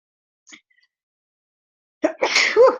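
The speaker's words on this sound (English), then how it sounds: "excuse me as I sneeze" A single close, loud sneeze bursts out after a faint sharp intake of breath and a stretch of silence.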